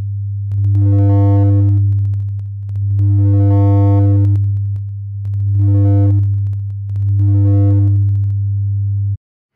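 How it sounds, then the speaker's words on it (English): Low sine test tone run through the SSL X-Saturator plug-in while the drive is swept continuously, harmonics swelling and receding four times with soft clicky transitions, a steady electronic hum alone. "This is what a continuous change in the drive settings sounds like."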